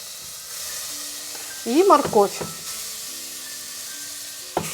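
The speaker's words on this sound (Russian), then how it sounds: "Овощи пассерую, помешивая недолго" Onion and carrot sizzling in vegetable oil: a steady soft hiss and crackle runs throughout, with a short spoken phrase over it and a faint clink near the end.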